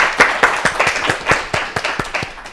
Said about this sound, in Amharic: ለሁለቱም አጨብጭቡላቸው።